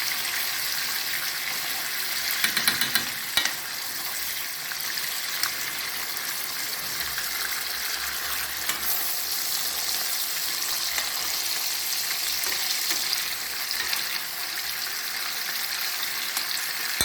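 Eggs fry with sour cream in a pan over hot lard, a steady, bright sizzle that runs continuously at moderate volume, with a few faint clinks near the start.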